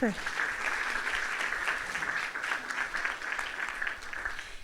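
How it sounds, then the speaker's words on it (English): Audience at a university lecture applauds steadily throughout, a dense wash of clapping from many hands at even strength from start to finish. "Just a quick round of applause for them."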